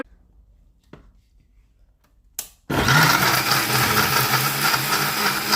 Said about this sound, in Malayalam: മിക്സിയിലിട്ട് ഞങ്ങൾക്ക് നമ്മൾ നല്ലോണം അരച്ചെടുക്കാം